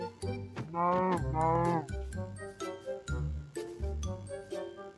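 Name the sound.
cow mooing in a video game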